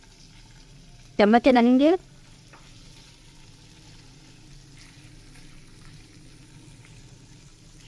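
Chicken cubes fry in a little oil in a pan on the stove, a steady sizzle running throughout, briefly interrupted by a short burst of a person speaking near the start.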